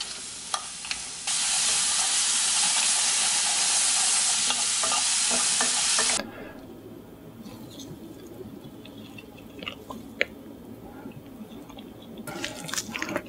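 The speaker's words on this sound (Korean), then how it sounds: "머리를 튀겨오도록 할게요." Shrimp heads frying in butter with minced garlic and sugar give a loud, dense sizzling hiss for several seconds, then a quieter crackle with scattered pops and stirring sounds, close up and without speech.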